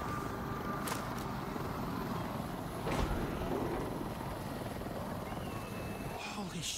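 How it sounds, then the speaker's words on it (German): Helicopter flying overhead in the VR zombie game Arizona Sunshine 2: a continuous, loud rotor and engine roar that fills the whole clip, swelling slightly in the middle. "Oh, Hubschrauber."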